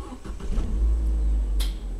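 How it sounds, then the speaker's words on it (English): A 1.4 Vauxhall Combo LPG van starting on petrol, a low steady engine rumble settling into idle close by, with a brief higher click or whine near the end. "I'll just turn the car off and just start it again and show you."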